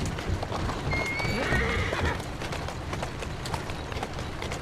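A horse whinnies in a high, wavering neigh over the steady clip-clop of hooves, with a busy background of game sounds from Assassin's Creed Syndicate.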